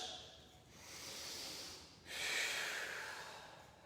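Two long, deep breaths during a yoga hamstring stretch, a soft airy inhale followed by a louder, rushing exhale, close and alone in a quiet room.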